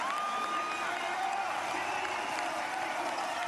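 A velodrome crowd at a UCI Track World Cup race in Milton, Canada roars and applauds in a steady, sustained wash, with a commentator's voice riding over the top.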